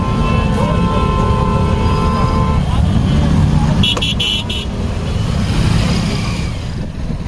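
Dense road traffic at a crowded Mahashivaratri festival near a temple in Kalahandi, with steady engine rumble, a short burst of horn toots in the middle, and voices murmuring throughout.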